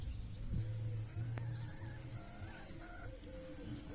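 A hen clucks intermittently against a busy outdoor background with a low engine rumble, at an animal enclosure beside a playground in Serbia.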